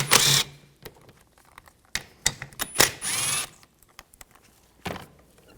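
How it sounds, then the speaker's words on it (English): Clicks, ratchets and metallic taps from a 10mm socket wrench working two bolts free on the radiator cooling fan control module of a 2004-2009 Audi A4, in short irregular bursts separated by quiet gaps, close up. "Using a 10mm socket, take these two bolts out."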